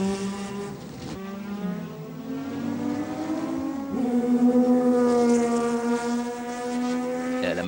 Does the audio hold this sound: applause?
no